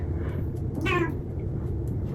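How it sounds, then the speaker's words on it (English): A single domestic cat meows once, a short rising call heard fairly close over a steady low background hum, with no talking. "My cat is Luna."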